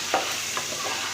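Green chillies with cardamom, cloves, cinnamon, bay leaves and curry leaves sizzle in hot oil, a steady frying hiss with a couple of brief crackles and stirring touches, no voices.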